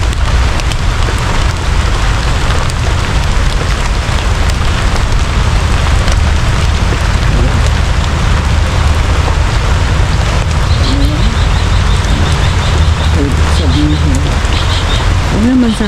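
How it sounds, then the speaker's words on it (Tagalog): Steady rain hisses and patters constantly across the whole stretch, a dense wash of noise with a few faint bird chirps. "Naman sanang tuloy-tuloy yung ulan."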